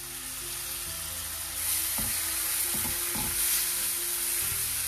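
Onion paste sautéing in a pan with coriander powder and garam masala: a steady, close sizzle with a few soft scraping stirs partway through, and no talking.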